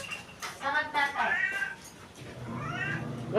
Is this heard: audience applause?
no